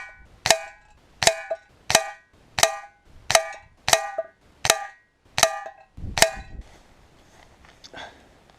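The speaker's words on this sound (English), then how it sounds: "we'll go and get the Weihrauch HW 97 and do 10 shots there." Ten evenly spaced sharp cracks from a Weihrauch HW 97 air rifle, each a crisp snap with a short ringing tail, about 0.7 seconds apart, followed by quiet shuffling.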